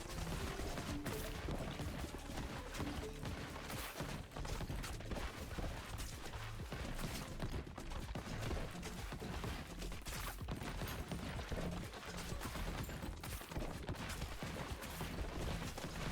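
Dense, continuous crackling bursts of fireworks explode nonstop in the video game Ball X Pit, loud and rapid like a fusillade throughout.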